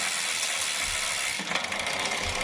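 Rapid ticking ratchet of an internal 5-speed gear hub freewheeling on a Chedech full-carbon mini velo, a fast even clicking buzz at close range, heard alone.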